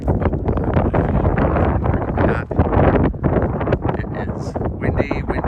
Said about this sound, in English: It is windy, windy, windy, and the snow is blowing.